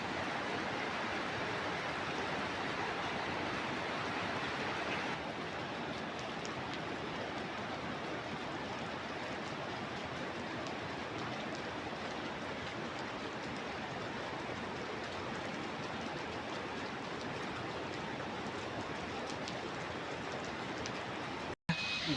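Heavy rain pours down steadily on a quiet village with no wind, a dense, even hiss that holds for the whole stretch, softening slightly after the first few seconds before a brief break at the end.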